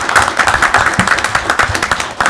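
People at a Dearborn city council meeting clap for a short burst, a close, dense spatter of hand claps with no voices over it.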